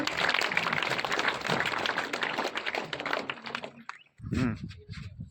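Loud, dense applause from a crowd at a school talent event honouring prize winners, sustained for about four seconds before breaking off into a few scattered claps and a brief voice.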